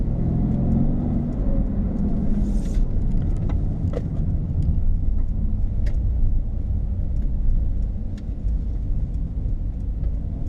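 A 2016 Mercedes-Benz AMG GT S engine drones steadily from inside the cabin on a test drive, a continuous low rumble with a faint brief rise partway through.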